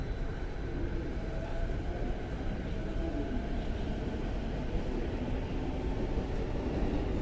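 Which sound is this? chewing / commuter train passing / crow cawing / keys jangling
commuter train passing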